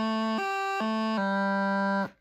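A reedy bagpipe practice chanter, fingered unevenly, wobbles between pitches with a brief stray blip before settling on a low sustained note that then cuts off.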